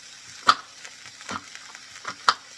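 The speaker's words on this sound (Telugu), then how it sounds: "దాన్ని ఇడ్లీ ఉప్మా లాగా చేస్తున్నాను" Leftover idlis fry in a pan as idli upma, and a utensil stirs them now and then. A few sharp taps and scrapes stand out against a faint, steady sizzle, close by and without talking.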